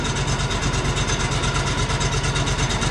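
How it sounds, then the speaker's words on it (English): A sawmill's engine runs hard and steady, a loud throbbing drone with a rapid, even pulse and no pauses. "When you pull it down, it revs the engine and it engages the belt for the drive."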